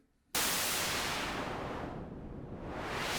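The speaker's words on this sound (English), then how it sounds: "You've also got white noise as well, noise number 2." Sudden loud burst of hissing white noise from a miniKORG 700Sm analogue synthesizer that continues steadily, its tone dipping darker briefly in the middle before brightening again.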